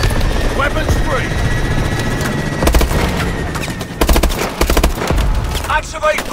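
Automatic gunfire rattles in bursts during a combat mission in Call of Duty: Advanced Warfare, over a steady helicopter-like drone. A voice speaks between the volleys.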